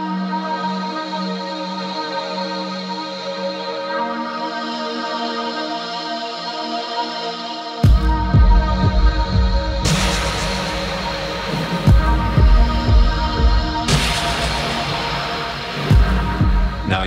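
Dark, droning synth chords swell alone, then heavy booming drums and distorted layers crash in, building a loud, ominous 80s-style electronic track.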